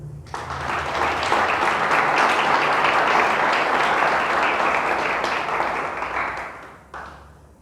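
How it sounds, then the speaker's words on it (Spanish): A church congregation applauding, a loud sustained burst of many hands clapping that swells quickly, holds for several seconds, then fades out with a brief final flurry. "Denle un fuerte aplauso al Señor."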